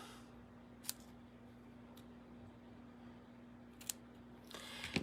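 Scissors snip a ribbon bow in a quiet room, giving a few sharp isolated cuts spaced about a second apart, with a short burst of snipping near the end over a low steady hum.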